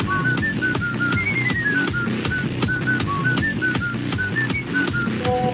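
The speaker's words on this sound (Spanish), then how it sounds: "Igualita la notificación de mensaje de WhatsApp." WhatsApp-style notification blips set to music in a Friday Night Funkin' Tankman mod, short whistle-like tones hopping in pitch over a steady beat with sharp percussive hits, no voices.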